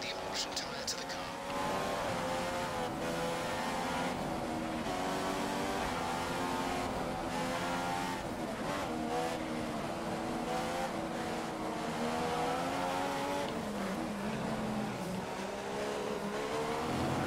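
F1 2015 racing cars on the Chinese Grand Prix circuit in a video game, with a steady high-revving engine whine that rises and falls through gear changes and runs continuously for most of the stretch.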